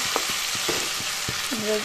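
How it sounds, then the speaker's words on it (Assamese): Close, constant sizzle of small puthi fish frying dry in a pan as their water cooks off, with repeated taps and scrapes of a spatula turning them. "এনেদৰে শুকানকৈ ভাজিব পানীখিনি সম্পূৰ্ণভাৱে নাইকিয়া হৈ যাবলৈ দিব"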